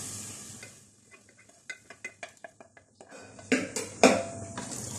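Masala is stirred into sarson ka saag in a pot, heard as a run of close, rhythmic spoon scrapes and clinks against the metal, followed by louder sizzling bursts.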